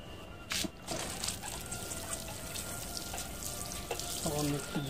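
A little water is poured onto freshly sown bean seeds in soil in a fruit crate on a rooftop, making a faint, hissing trickle with a few soft knocks.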